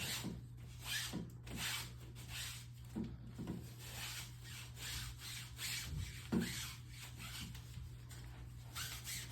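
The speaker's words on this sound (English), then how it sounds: "You get a clean but wet or damp microfiber. You just wipe." Damp microfiber cloth wiped across a window screen, giving repeated soft rubbing swipes in a steady back-and-forth rhythm, close and fairly quiet against a low background hum.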